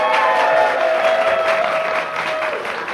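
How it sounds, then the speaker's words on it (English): A comedy club crowd at a roast battle claps to vote for a contestant, a loud sustained burst of applause with a faint tone running through it, easing slightly at the end. "If you want Jill G to win, clap now."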